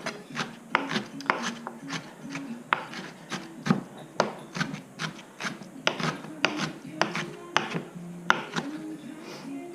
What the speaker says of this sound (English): taking some of the kimchi out. I can just use my fingers because I just washed my hands. However much you think you want. And we're going to just chop it.